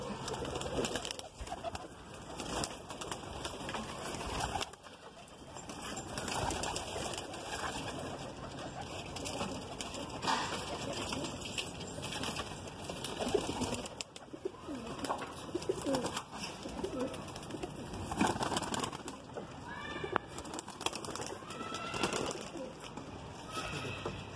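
A Madrasi pigeon coos in repeated soft throaty calls, close and continuous over a steady background hum, with no one speaking.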